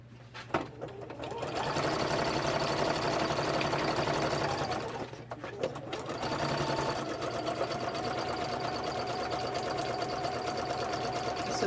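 A sewing machine stitches a row of zigzag, its rapid mechanical stitching humming steadily in two long stretches separated by a brief pause, close and moderately loud.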